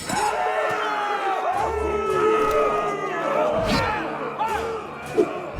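Arena crowd in the Game of Thrones video game: a roaring, howling mass of cheering voices that swells and ebbs, with shouted calls rising over it.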